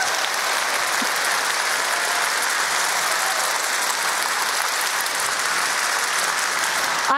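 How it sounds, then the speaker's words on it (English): An audience at a training event gives a sustained burst of applause, dense steady clapping filling the whole stretch, close and fairly loud, with no voices on top. "Give them a big applause."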